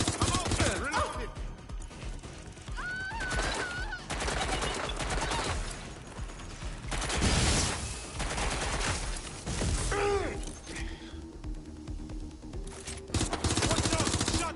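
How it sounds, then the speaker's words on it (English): Gunfire in the Watch Dogs: Legion video game: bursts of shots and sharp cracks mixed with loud in-game action and shouting voices, dense and chaotic throughout. "Shots fired!"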